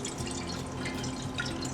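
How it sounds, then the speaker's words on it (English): Four cups of chicken broth are poured into a pot on the stove. The liquid gives a steady, close, splashing trickle with no break. "we're going to add 4 cups of chicken broth"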